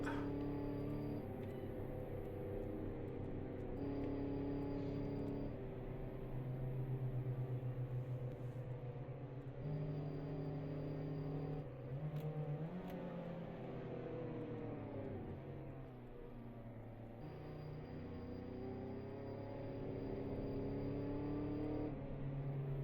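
A car driven in the video game DayZ, with a steady engine drone that rises and falls with revving and gear changes, continuous and moderately loud throughout with no voices.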